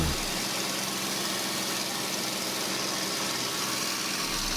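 P-51D Mustang piston fighter engine in flight, heard from inside the cockpit during a dive and high-G pullout: a loud, steady, broadband roar and drone that holds constant throughout.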